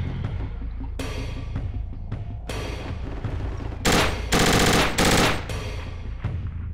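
Gunfire in the military shooter Project Reality, steady automatic bursts rattling in the middle distance, then several much louder, close, sharp volleys near the end before the firing thins out again.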